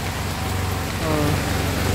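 Heavy rain pours down steadily in a continuous broadband hiss, loud and close, with a low rumble underneath and no speech over it.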